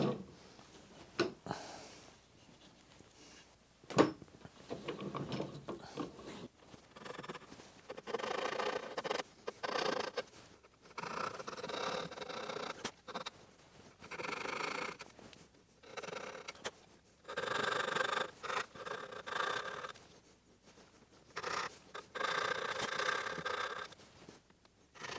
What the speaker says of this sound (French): Voilà, pour l'instant, je scie que du côté où je vois.